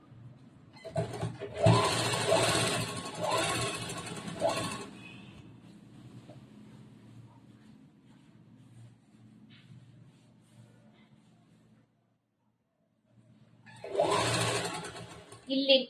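Sewing machine running at a steady hum while stitching a kurta seam, loud bursts early and again near the end with quieter running between, a voice talking over it.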